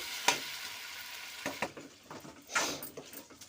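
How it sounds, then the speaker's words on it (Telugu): Potato curry stir-frying with ginger garlic paste, a soft sizzle under scattered scraping stirs and clinks of a spoon against the pan, several sharper strokes spaced irregularly. "కొంచెం అల్లం వెల్లుల్లి పేస్ట్ కూడా వేసుకొని పచ్చివాసన పోయేంత వరకు ఒక రెండు నిమిషాలు కలుపుకుంటూ వేయించుకోవాలి"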